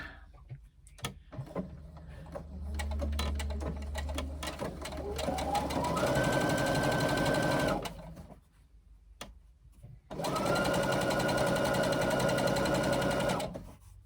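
A sewing machine stitches a 3/8 inch seam across the top of a hobo shoulder bag, with two long steady motor runs separated by a short pause and some handling clicks near the start.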